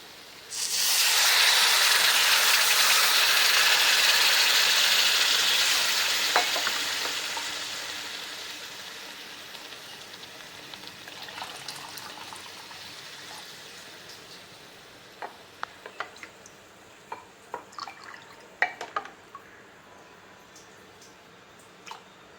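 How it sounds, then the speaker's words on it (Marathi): About two and a quarter cups of water hit sautéed red chilli masala in a hot pan, bursting into a loud, close steam hiss that slowly fades into a gentle bubbling sizzle with scattered small pops. "जवळजवळ सव्वा दोन ते अडीच कप पाणी मी इथे घातलेलं आहे"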